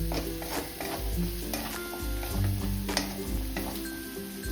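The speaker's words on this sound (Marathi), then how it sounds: "आता तेलामध्ये हे वाटण अगदी मस्त असं परतून घेऊयात" Masala paste with turmeric frying in hot oil for vada pav potato filling, a steady close sizzle with repeated scraping stirs of a spoon through the pan and no voices.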